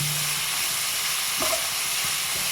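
Onions frying in a pan for chicken curry, a steady close sizzle with a few soft stirring knocks.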